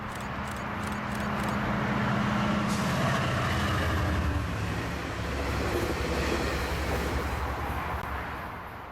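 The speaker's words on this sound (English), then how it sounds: "northbound train 625 rounded the corner with one of Coaster's last remaining F-59 PHI locomotives" Northbound Coaster commuter train hauled by an F-59PHI locomotive passes near San Diego, a steady loud rumble and rolling wheel noise building and holding for several seconds, with a low engine drone early on.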